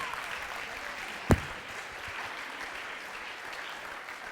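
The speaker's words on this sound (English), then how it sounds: "Big round of applause" An audience keeps up steady applause after a magician's stage trick, a continuous wash of clapping broken by one sharp, loud knock or bump early on.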